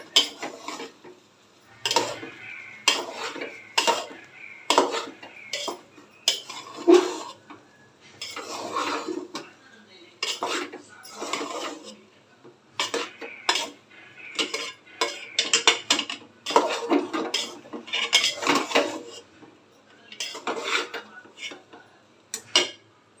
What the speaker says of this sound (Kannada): ಈಗ ತಿರುಕೊಳ್ಳೋಣ.